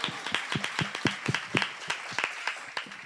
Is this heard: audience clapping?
yes